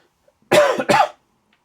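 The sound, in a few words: person coughing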